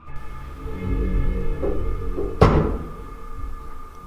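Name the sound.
door banging shut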